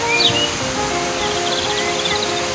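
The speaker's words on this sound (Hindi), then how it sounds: "और ये जो है ये चक्की है पानी से चलने वाली चक्की।" Water flows steadily past a traditional water-powered flour mill in Khyber Pakhtunkhwa, a continuous rushing hiss with faint birdsong over it and no voices.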